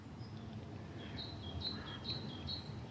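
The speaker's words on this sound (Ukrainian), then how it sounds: "як пташки співають" Small birds chirp and tweet in short, high, repeated calls over a faint background hum, fairly distant and quiet.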